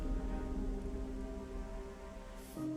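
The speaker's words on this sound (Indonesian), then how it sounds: "Langit hanya menyisakan gerimis kecil." A light drizzle of rain hisses softly and continuously over a quiet rural setting, with faint low sustained tones underneath and no voices.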